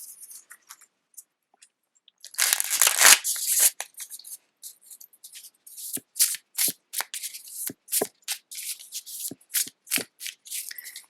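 Tarot cards shuffled by hand: a long riffle burst, then a quick run of rhythmic flicking shuffles, close up and crisp.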